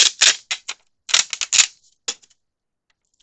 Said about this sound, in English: what I'm going to get out is packing tape